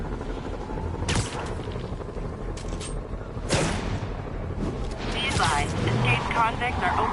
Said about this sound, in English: Convicts are opening fire from stolen vehicles.